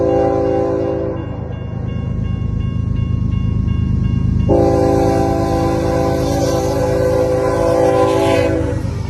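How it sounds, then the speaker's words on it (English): A long freight train hauled by GE Dash 9 and Dash 8 locomotives rumbles past close by while a multi-chime horn blares loudly, the tone shifting partway through as the wheels and cars roar on. "On this train were some Dash 9s, a C44-9WL, an ST75I, and 2 Dash 8 locomotives."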